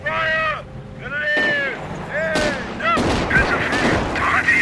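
Gunfire from a World War II real-time strategy game: bursts and single shots crack over a noisy battle bed, mixed with shouted voice commands from units throughout.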